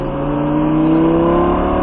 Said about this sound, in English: The Lamborghini second, and feed on the power now.